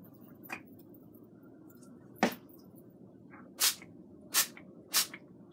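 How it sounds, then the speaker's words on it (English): Avocado oil sprayed onto frozen beer-battered fish fillets in an air fryer: four or five short, sharp hissing spritzes spaced irregularly over a quiet background, close to the microphone. "I'm gonna spray it."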